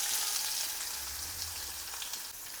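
Chopped onion goes into hot oil with mustard seeds, cumin and asafoetida and fries with a soft, steady, fairly quiet sizzle that carries on evenly with no voices over it.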